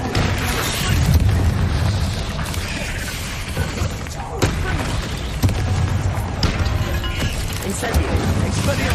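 Booming spell blasts and crashing impacts from Hogwarts Legacy combat, a dense continuous roar of explosions with a voice shouting over it.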